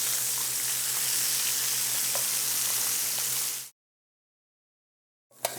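Venison osso bucco shanks searing in a hot pan, a steady loud close sizzle with a low hum underneath that cuts off abruptly partway, followed by silence and a brief return of sizzling.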